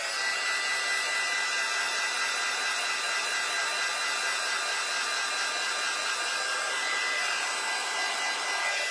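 A hair dryer blows steadily and loudly, quick-drying a craft on a cutting board, with a constant close whir throughout.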